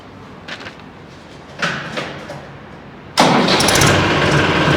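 A Massey Ferguson 254 DI tractor engine cranks and catches after a few faint knocks, then settles into a loud, steady diesel rumble that runs close by without any talk.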